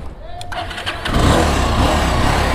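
Motorcycle, a Yamaha R15 left unused for days, fires up on the electric self-start at first try: a brief starter whir then a loud, steady idle rumble close by, with someone talking over it.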